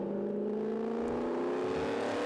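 An old racing car, number 53, runs a regularity session at a motor-racing festival circuit, its engine droning with a steady, slowly rising pitch as it holds speed close by, with no voices over it.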